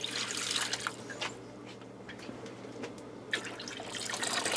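Water pours and splashes into a cooking pot on a stovetop, a steady close trickling stream that fades briefly mid-way and then resumes more strongly.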